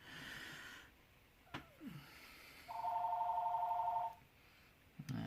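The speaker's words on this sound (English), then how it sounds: "it's just the phone" A telephone rings indoors in a room: one steady electronic trill lasting over a second, fairly clear, with breathy sounds before it and no talk.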